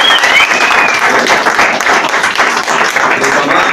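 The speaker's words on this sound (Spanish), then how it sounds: "Pues reciban un caluroso aplauso de Casa Amistad y Restauración Ciudad de México" Congregation applause at a church service in Mexico City, a loud, dense, continuous roar of many hands clapping with a hint of crowd noise, sustained evenly throughout.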